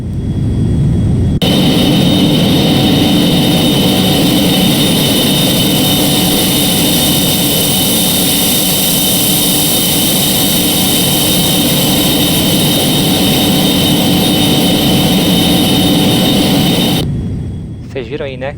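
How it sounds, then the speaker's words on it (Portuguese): A Carenado Beechcraft Premier 390 business jet cruising in a flight simulator, its engines giving a loud, steady roaring whine with a constant tone that cuts off abruptly near the end. "Premiere Uno Alpha rasgando os céus"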